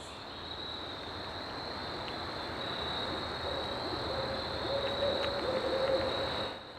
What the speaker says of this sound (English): Definitely just heard an owl.